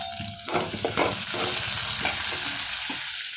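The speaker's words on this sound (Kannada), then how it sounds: "ನಮ್ಮಮ್ಮ ಒಗ್ಗರಣೆ ಮಾಡ್ತಾ ಇದ್ದಾರೆ ಈಗ" Oil sizzles and crackles steadily as spices fry for tempering a country-style greens curry, with a few louder pops and stirring scrapes near the start, close and continuous.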